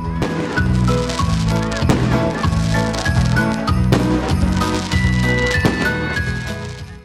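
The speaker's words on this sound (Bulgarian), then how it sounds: "осветено от блясъка на празничните фойерверки" Holiday fireworks burst repeatedly, a series of booming cracks and crackles at a fairly regular pace, mixed with some music-like tones.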